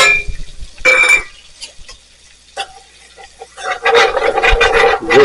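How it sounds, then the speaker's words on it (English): Spoon scraping and stirring flour and grease into a dark roux in a pot for a Cajun meatball stew, rhythmic rasping strokes with a sizzle underneath, loud and close, pausing briefly before resuming in quicker bursts. "This we'll just keep stirring"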